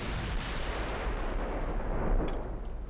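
Naval artillery fire from warships in Ultimate Admiral Dreadnoughts, heard as a dense, continuous rumble of distant heavy guns with no clear separate shots, loud and unbroken throughout.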